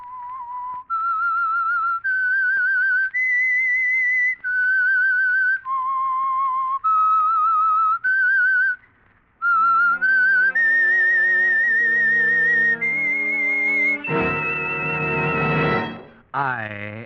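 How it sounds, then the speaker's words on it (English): A lone whistler performs the eerie theme of an old-time radio mystery show, clear sustained notes in a slow melody, followed by an orchestral swell joining and ending with a loud brassy chord. "That whistle is your signal for the Signal Oil Program"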